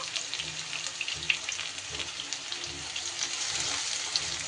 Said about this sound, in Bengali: এবার পেঁয়াজটা যতক্ষণ না পর্যন্ত বেশ লাল লালভাবে ভাজা হয়, সেইভাবে পেঁয়াজটা আমি কিন্তু ভেজে নেব।